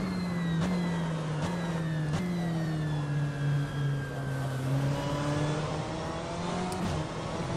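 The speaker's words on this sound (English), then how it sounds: "You do hear that transmission whine in the background though." A race car engine in rFactor 2 drones steadily with a high, sustained transmission whine gliding slowly in pitch, a few sharp clicks punctuating the continuous mechanical hum.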